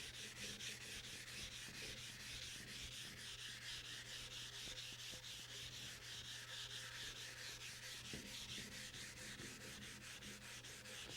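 Fine-grit sandpaper wetted with mineral spirits rubs back and forth across a cast iron table saw top during a Unisaw restoration, a close, steady, even hiss of rhythmic strokes with nothing else heard.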